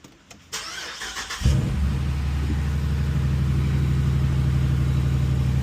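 2019 Dodge Durango R/T engine cranking briefly after a few clicks, then catching and settling into a loud, steady idle rumble close by, with no talking.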